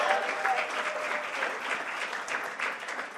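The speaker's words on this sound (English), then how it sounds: "a big round of applause for the Town Hall staff that makes all of this happen every single day" Audience at Town Hall Seattle giving a round of applause for the staff at a live event, even sustained clapping at moderate, somewhat distant level with a brief whistle at the start.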